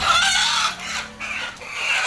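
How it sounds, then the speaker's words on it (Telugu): A pure black rooster clucks in bursts, fairly close and loud, with a dry, raspy edge and short pauses between calls. "ఇక్కడ చూసుకోవచ్చు బ్లాక్ నెట్ కోడి పుంజు ప్యూర్ బ్లాక్"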